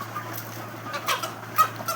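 Hens kept at home for eggs in a mesh coop cluck softly in a few faint, scattered bursts over a low steady hum.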